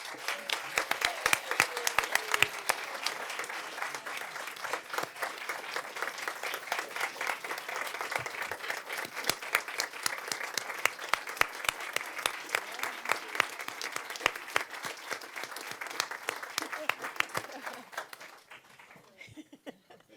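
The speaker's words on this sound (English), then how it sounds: "Please join me in a round of applause for Mr. Whitlinger." An audience at a school board meeting applauds steadily for an honoree, a sustained round of clapping from many hands that holds for nearly twenty seconds before tapering off at the end.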